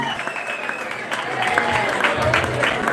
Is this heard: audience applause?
yes